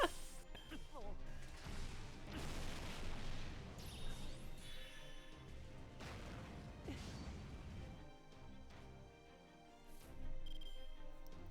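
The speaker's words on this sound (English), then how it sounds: "Oh, the explosion's so good." Explosions in the mobile game Fate: Grand Order, loud booming crashes and bursts layered over battle music and effects, with a voice talking over the game audio throughout.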